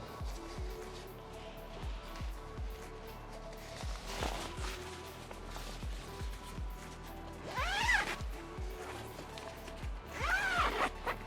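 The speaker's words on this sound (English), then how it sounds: "I'm gonna start on the inside and go ahead and zip everything up" Zippers on the doors of a Yakima SkyRise rooftop tent mounted on a Rivian R1T truck bed are pulled shut in several long rasping strokes, close and moderately loud, with rustling tent fabric between them.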